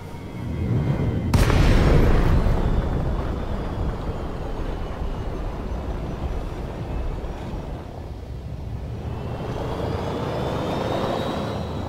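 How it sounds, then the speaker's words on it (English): The Lakon Type-7 ship's engine in Elite: Dangerous gives a low, rumbling drone, with a sharp boom-like burst near the start, then a steady hum that dips and swells slightly. "Is that not the most pathetic sounding ship engine you have ever heard in any game"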